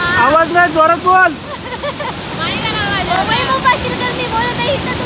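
Steady rushing roar of a hidden waterfall at Nijampur fills the background, while voices talk loudly and close over the water noise.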